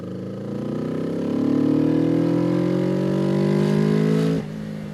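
A Kawasaki ER6NL motorcycle's exhaust drones under acceleration while riding, the pitch climbing smoothly through a gear before a sudden drop at a shift, steady and fairly close with no talk.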